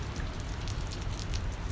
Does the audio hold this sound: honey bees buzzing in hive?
no